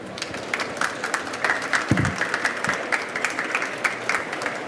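Seminar attendees applaud, a steady, moderately loud spread of many hands clapping that carries on alone for several seconds, with a faint voice or bump partway through.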